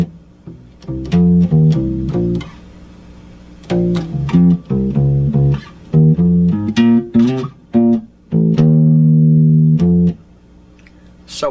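A bass guitar plays the later bass line of a song, a syncopated funk pattern of short plucked notes and rests with a longer held note near the end, loud and alone.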